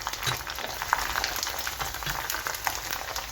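Sabu pitha dumplings frying in hot oil, giving a continuous crackling sizzle with scattered pops that stays steady and fairly loud throughout, with no voices.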